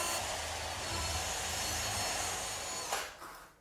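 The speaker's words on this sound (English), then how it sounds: "Drill indicated points ahead." A power drill bores pilot holes in a bathroom wall of plasterboard backed by OSB board. The grinding whir is steady and close, then cuts off sharply near the end.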